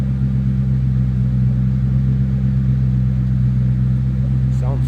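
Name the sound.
car engine throaty exhaust rumble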